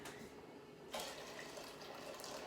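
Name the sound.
pouring fresh water from kettle into pea soup pot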